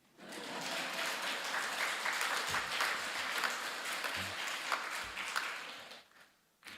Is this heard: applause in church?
yes